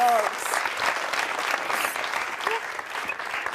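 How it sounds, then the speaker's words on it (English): A TV studio audience applauds for two dogs on a talk show, a dense, continuous burst of clapping with voices mixed in. "round of applause for the dogs"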